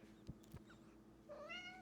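Momo, a pet cat, lets out one short, rising meow at close range in a quiet room, following two soft thumps.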